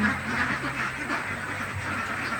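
Ducks inside a poultry house quack continuously in a dense, overlapping chorus, close and steady, with no talking.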